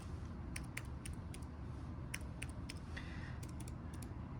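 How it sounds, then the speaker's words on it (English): Sparse, quiet computer keyboard typing done with one hand, a few separate key clicks and short bursts spread across a low background hum. "typing with one hand here."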